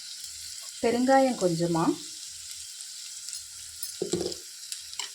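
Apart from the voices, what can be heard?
shallots and curry leaves sizzling in hot oil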